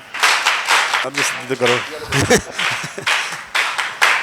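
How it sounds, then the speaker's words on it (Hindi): A church congregation claps to welcome visiting pastors, bursts of clapping mixed with someone speaking over them and a brief sung or chanted phrase in the middle, the clapping returning in clusters. "तालियों के साथ वेलकम करेंगे हम."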